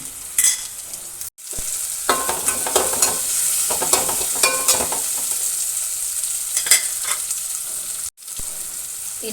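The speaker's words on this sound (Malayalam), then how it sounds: "ഇനി ഞാൻ ഈ പച്ചമുളകും കറിവേപ്പിലിട്ട് കൊടുക്കണം കേട്ടോ ഇതൊന്ന് ഇതിലിട്ട് ഇളക്കി" Green chillies and curry leaves are stirred into bitter gourd in a hot pan, giving a loud continuous sizzle with quick spatula scrapes and clinks, briefly cut by two short silences, no speech.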